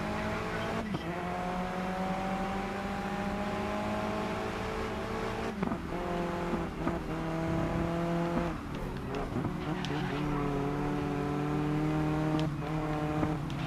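Upgraded race car in the video game GRID Legends, a sustained high-revving engine drone with gear shifts and pitch changes throughout, loud and continuous, with faint tire noise and other cars around.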